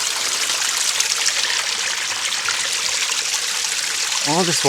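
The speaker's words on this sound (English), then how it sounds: "The water goes into the pipe." Steady rushing flow of spring water running continuously into a pipe at a rural wooden cabin, loud and close, with a brief voice at the very end.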